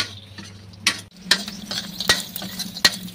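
Soybean chunks (badi) frying in a pan with soft background sizzle, broken by several sharp scraping clicks of a spatula stirring them, close and alone without talk.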